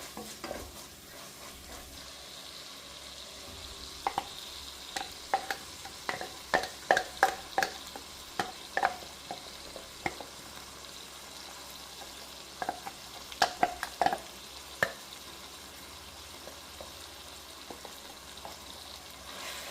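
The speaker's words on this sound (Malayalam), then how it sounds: "നന്നായിട്ടൊന്ന് ഇളക്കി കൊടുക്കാം" A spoon scrapes and clatters against a frying pan in irregular bursts while chicken curry with roasted coconut paste sizzles quietly underneath, close and fairly soft.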